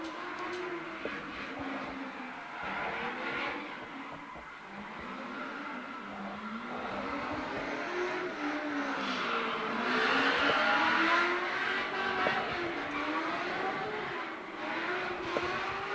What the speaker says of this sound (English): enjoying being behind the wheel of a V8 powered S15